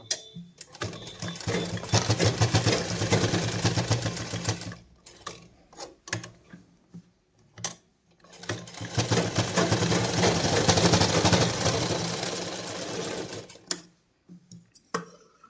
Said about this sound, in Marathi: आपण अगोदर इथं शिलाई मारून घेऊ म्हणजे मागं पुढं व्हायला नको